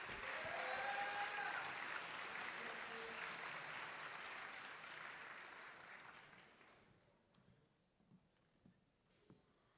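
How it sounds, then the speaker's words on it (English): Audience at a high school senior awards assembly applauding in a dense, steady round that fades out after about six seconds, leaving a few faint scattered claps and room noise. "Let's give him a great round of applause."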